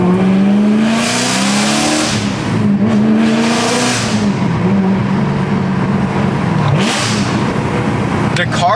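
Straight-piped BMW E92 M3 engine roaring close up, a loud raw exhaust drone with rising and falling revs that runs through the whole stretch without pause.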